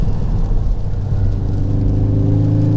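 A tuned Mk4 Ford Focus ST with Dreamscience tuning and 330 bhp accelerating on a wet road with standing water, its engine a steady loud rumble with rising harmonic drone under constant road and tyre noise, heard from inside.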